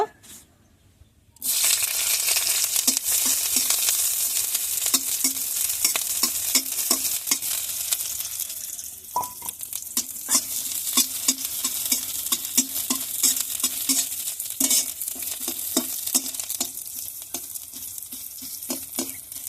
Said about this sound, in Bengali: একটা পেঁয়াজ ভেজে নেব